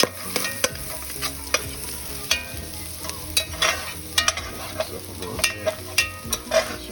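Garlic and bacon fry in a pan, with steady sizzling broken by frequent sharp pops and stirring scrapes, close and fairly loud, with no voices.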